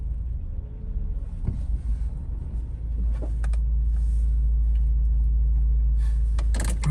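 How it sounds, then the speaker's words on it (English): A Honda CR-V, an AWD model fitted with a FWD transmission, running with its engine idling: a steady low rumble that starts uneven, then settles into a loud, constant hum with a few light clicks and knocks. "So just a video to show that the car is working now."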